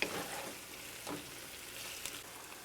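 Peppers sizzle softly together in a pan, a faint, steady crackle with a couple of brief stirring scrapes and no talking.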